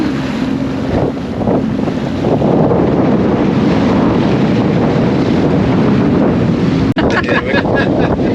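Strong wind rushes over the microphone aboard a Catalina 387 sailboat off Myrtle Beach, a loud steady roar with water wash underneath, a sharp knock near the end, and no clear talk.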